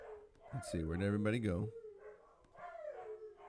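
Dogs howling and yipping in a drawn-out, wavering burst at a moderate distance, with a voice talking quietly before and after.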